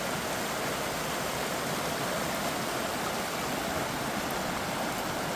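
Creek water rushes steadily past a cabin near a headgate, a constant full broadband roar with no breaks and no voices.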